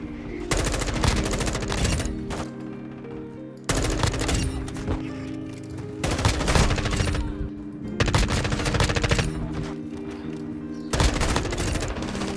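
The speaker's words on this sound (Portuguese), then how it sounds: "Testar M4 um pouco." Sustained automatic M4 rifle fire in Call of Duty: Modern Warfare II, loud and dense, coming in several long bursts separated by brief gaps, with game sound layered underneath.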